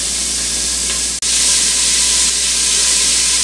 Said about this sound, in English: let's go ahead and break up our hamburger. And we will saute that for maybe 4 to 5 minutes